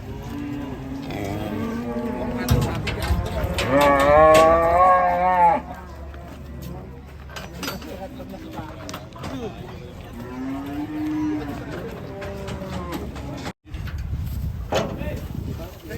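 Cattle at the Muntilan livestock market give several loud, drawn-out moos, one long low call near the start and more further on, over a busy market background.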